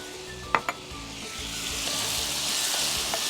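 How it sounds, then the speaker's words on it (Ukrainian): A garlic-rosemary glaze hits a hot frying pan with two sharp clinks, then a sizzle swells into a steady loud hiss, no voices. "розогріваємо сковороду та вливаємо цю глазурь."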